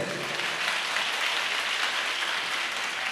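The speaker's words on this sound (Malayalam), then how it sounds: "അപ്പോൾ എല്ലാവരും നന്നായിട്ടൊന്ന് കൈയടിച്ചേ." An audience claps together in a dense, steady burst of applause that lasts throughout, a crowded hall sound with no voices over it.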